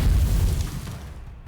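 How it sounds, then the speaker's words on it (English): Heavy artillery explosion in the video game Nikke: a deep, loud boom bursts at once, then rumbles and slowly fades over about a second and a half. "Dust flies everywhere amongst the ensuing explosion"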